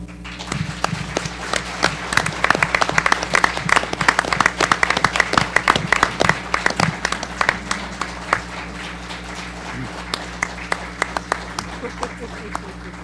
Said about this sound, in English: we will begin as such with our thunderous applause, which will last for about 20 seconds